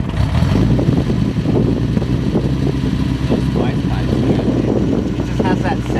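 A restomod 1972 Datsun 240Z engine runs at a steady, rough low idle, loud and close throughout, with a voice over it.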